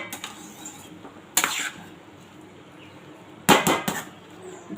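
A lid goes onto a pot of pulao after sugar is added, with two short bursts of metallic clanking and clattering against a quiet kitchen background.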